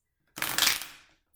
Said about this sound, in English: These shuffles are quite rough.